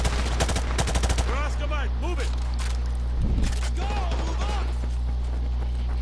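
Gunfire in the Modern Warfare video game campaign, a burst of rapid shots near the start and another short cluster midway over a constant low game hum, with voices talking on and off.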